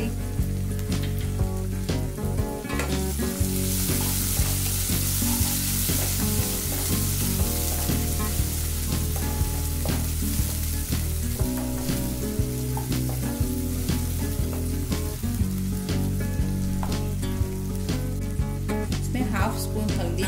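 Finely chopped tomatoes sizzle in a hot tadka for Maharashtrian varan dal with tur dal, a loud steady frying hiss with stirring clatter throughout, close by, while a voice talks over it at times.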